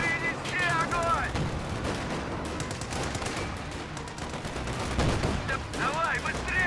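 Gunfire in the video game Company of Heroes 2 during a Bastogne mission: repeated bursts of shots and distant explosions over a busy battlefield mix, with brief chirping effects near the start and end.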